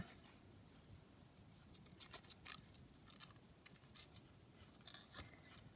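Scissors trimming around paper for a junk journal, a faint series of soft snips and crisp paper rustles at an uneven rhythm, close and quiet.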